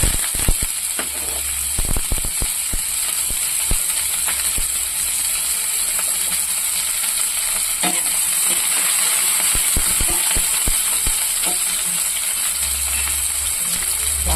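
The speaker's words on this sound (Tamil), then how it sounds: "சீரகம் பொண்ணு வச்சு காஞ்ச மிளகா வெங்காயம் போட்டுக்கலாம்." Cumin, dried chilli and onion fry in oil in a pan, with a steady hiss of sizzling and frequent sharp clicks and scrapes from stirring, close and continuous without speech.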